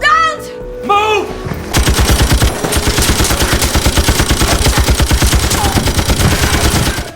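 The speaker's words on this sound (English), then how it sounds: "carrying a heavy machine gun in her hands" Heavy machine gun fire in a zombie film scene: after brief shouted voices, a loud, sustained burst of rapid, evenly spaced shots rattles on for several seconds.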